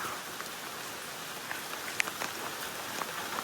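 Heavy monsoon rain pours in a steady, dense hiss on the Delta Falls and Surla waterfalls route, with scattered louder drop splats and no voices.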